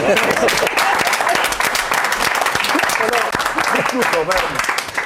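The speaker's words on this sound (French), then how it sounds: "On peut l'applaudir." A studio audience on a French-language café talk show bursts into warm applause to welcome a Swiss cowboy guest, a thick, lively wash of clapping with a few voices mixed in, loud and sustained throughout.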